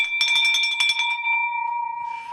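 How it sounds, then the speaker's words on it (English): A bell is rung in celebration of a new sign-up, a quick burst of about eight bright metallic strikes that then fade into a long ringing tone, with a faint rattle near the end. "Let's ring that bell."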